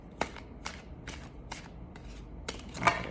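Tarot cards are shuffled by hand in a quiet room, giving a series of about seven crisp, evenly spaced riffling snaps at close range, with no talking.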